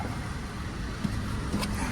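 A moving car gives off a soft, even engine drone mixed with road noise, faint and steady with a couple of small bumps.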